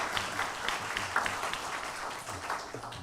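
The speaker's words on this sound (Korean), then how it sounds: "우리 감사의 박수 하겠습니다." A congregation at a university chapel service applauds the orchestra, a warm, even round of many hands clapping that rolls on steadily, slightly distant in a reverberant hall.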